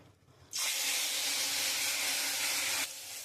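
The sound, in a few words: small fish frying in hot oil in a wok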